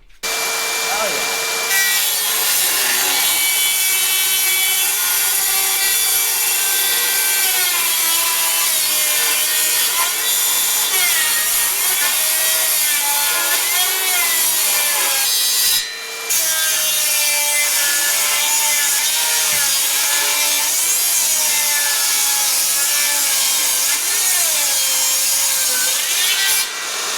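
A table saw cuts wood for trim on a small modular Colonial-style shed, a loud, steady whining buzz of blade through timber that runs nearly continuously, with one brief break midway.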